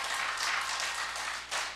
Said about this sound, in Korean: 여러분 이번 절기를 주신 하나님께 영광의 박수 올립시다.